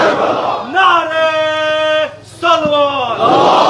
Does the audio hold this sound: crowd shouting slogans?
yes